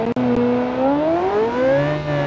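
A twin-turbo V8 race car engine with a muffler-less exhaust, revving to 9,000 RPM in the BeamNG.drive driving game, gives a loud, high, rising howl, with a brief break near the start.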